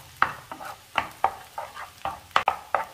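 A spatula stirs an egg and drumstick stir-fry (thoran) in a pan with about ten evenly spaced scraping strokes. Each stroke sounds close and clear over a soft sizzle, and no one speaks.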